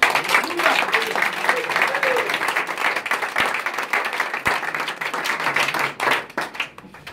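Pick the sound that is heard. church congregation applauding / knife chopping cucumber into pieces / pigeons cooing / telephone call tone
church congregation applauding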